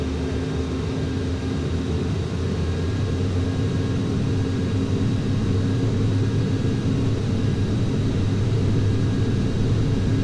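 Boeing 737-700 jet engines on a takeoff roll in a flight simulator: a steady, loud, continuous engine roar with a constant hum and whine, unbroken throughout, no voices.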